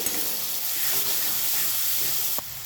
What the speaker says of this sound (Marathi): आणि वाटलेलं वाटण छान परतून घेऊ